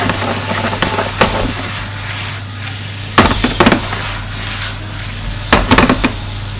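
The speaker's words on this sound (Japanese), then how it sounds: "ひき肉炒めていきます。" Ground meat frying in sesame oil in a frying pan, a steady close sizzle broken by clattering scrapes of a utensil against the pan in several bursts.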